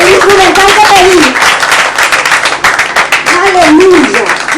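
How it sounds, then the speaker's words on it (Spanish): A church congregation clapping and cheering, a lively crowd of hands under loud voices shouting and calling out, the applause continuing throughout beneath the talk. "Vamos, dale un fuerte aplauso."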